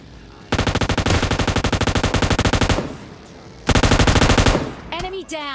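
Automatic gunfire from the video game PUBG rattles in two loud rapid bursts, the first lasting about two seconds and the second about one second, with a brief voice at the end.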